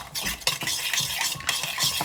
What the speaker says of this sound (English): give it a bit of a stir around with a spoon.